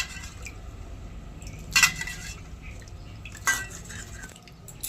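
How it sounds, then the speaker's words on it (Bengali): Lentils washed in water in a bowl, with two brief sloshing clinks of grains and water against the vessel over a faint, quiet background and no talk. "দুবার তিনবার জল পাল্টিয়ে ডালটা একটু ভালো করে ধুয়ে নেব।"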